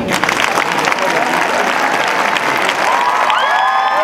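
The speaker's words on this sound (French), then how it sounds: "On fait un test. Applaudissements, regardez." Studio audience applause at a Star Académie taping, a dense, loud wash of clapping with some cheering that carries steadily for about four seconds, with high whistles rising near the end.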